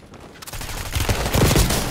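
Automatic gunfire in Call of Duty on Rebirth Island, a fast burst of sharp shots building from quiet into a loud, dense stream of close rattling fire.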